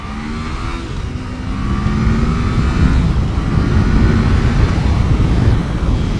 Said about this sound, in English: let's do a little acceleration test here in a minute from a start